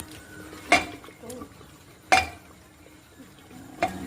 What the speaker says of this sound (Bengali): ভালো করে সুজিটা জলের সাথে মিক্স করা হচ্ছে, চিনি ফোটানো জলের সাথে।